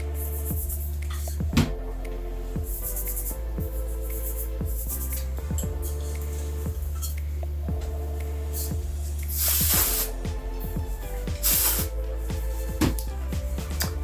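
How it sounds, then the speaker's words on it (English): Moroccanoil dry shampoo sprays onto hair in a few short, close hissing bursts over a steady background hum and soft rustling, with no talking. "This is the best dry shampoo, by the way. It's the Moroccan oil dry shampoo."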